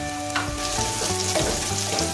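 Green chillies, curry leaves and turmeric fry in hot oil with a steady sizzle, and a utensil stirs them in several short scraping bursts.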